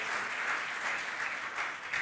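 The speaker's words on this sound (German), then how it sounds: "Großen Applaus für dich, dass du dir Zeit genommen hast." Steady, dense applause from a studio audience on a German football talk show, sustained at an even level for the whole stretch with no voices on top.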